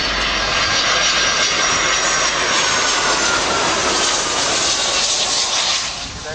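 An Air New Zealand Boeing 757 jet airliner roars past at the RIAT 2009 air display, a loud, steady, broadband jet engine rush that holds for several seconds before easing slightly.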